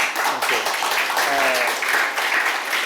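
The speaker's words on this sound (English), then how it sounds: "Round of applause." A conference audience claps in a steady round of applause, the dense clapping filling the whole stretch with a voice faintly audible beneath it.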